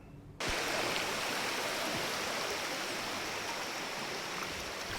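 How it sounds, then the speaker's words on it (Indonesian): Swift-flowing river at a damaged bridge crossing in Mamasa, a steady loud broadband rush of water that starts abruptly after a brief quiet moment and continues unbroken throughout. "harus menyeberangi sungai berarus deras"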